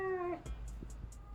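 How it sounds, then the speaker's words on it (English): A house cat gives a single short, fairly close meow at the start, followed by faint soft clicks and low room noise. "The cat says good night, too."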